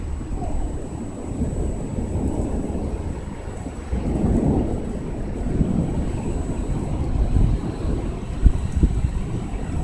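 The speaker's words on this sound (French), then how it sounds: "Le tonnerre" Thunder from a strong April thunderstorm over Amiens, France, rumbling low and continuous beneath heavy falling rain and some wind noise, swelling in deeper rolls around the middle with no one speaking.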